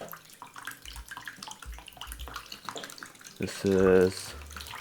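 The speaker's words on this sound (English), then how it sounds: "So let's put it in the water. I can see that the water is hitting up here. So that means water's going in." Small motor pump in a coffee fountain drawing in water, a low hum and gurgling trickle that swells louder near the end, heard close with a person speaking softly.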